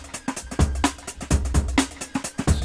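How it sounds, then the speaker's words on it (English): A breakbeat drum loop plays loud and close, punchy kicks and crisp snares falling in a syncopated, shuffling rhythm with busy hi-hat ticks between the hits. "in this case we've got this breakbeat loop that sounds like this"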